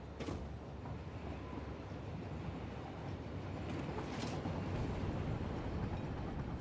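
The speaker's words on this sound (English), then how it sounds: "So in theory, that train should move." A train in the factory-building video game Satisfactory rumbles along the rails with faint creaks and clanks, a steady low rolling sound heard alone at low volume.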